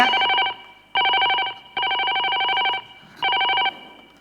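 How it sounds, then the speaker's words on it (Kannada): A telephone bell rings in four bursts separated by short pauses, loud and close, with no voices. "ಫೋನ್ ರಿಂಗ್ ಹಾಕೊಂಡು"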